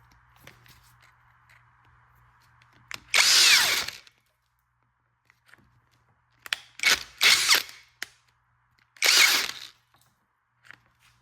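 A Mellif cordless drill fitted with a 1.5-inch bit bores into wood in three separate loud bursts of whirring and chewing, with quiet gaps and faint handling noises between them.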